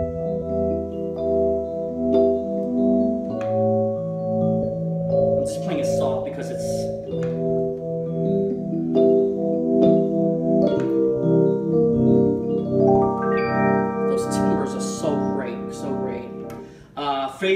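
A Yamaha P515 digital piano plays a lick on its electric piano voice with a phaser effect through its built-in speakers. It gives sustained, swirling chords and notes with brief bright clicks, at steady moderate loudness.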